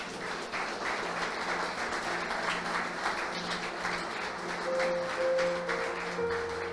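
Worshippers in a church service give a round of applause after a closing prayer, a continuous even wash of clapping lasting several seconds, with soft sustained instrument tones entering toward the end.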